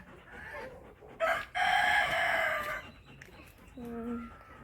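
A rooster lets out one long, loud crow, followed by a few short clucks from chickens nearby.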